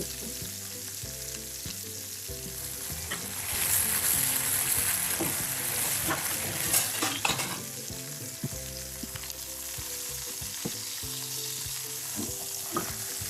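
Scallion, ginger and garlic hit a hot pan beside soy sauce chicken pieces, giving a loud, sustained sizzle that swells midway and then settles into a steady crackle, accompanied by background music.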